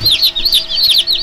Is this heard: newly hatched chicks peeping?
yes